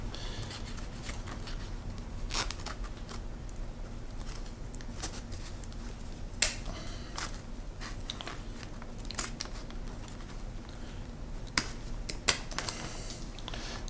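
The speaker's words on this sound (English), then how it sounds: "Going right through those zippers, no problem." Metal zippers on a medical kit pouch being cut through by a cutting tool, giving sharp, irregular snipping clicks and snaps over a steady low background, close and fairly loud.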